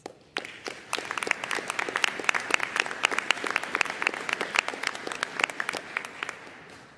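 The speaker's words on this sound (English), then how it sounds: "Let's give them a round of applause" Audience at a college commencement ceremony clapping for honored guests, a sparse, fairly quiet patter of individual claps with distinct sharp hits, steady for several seconds at moderate distance.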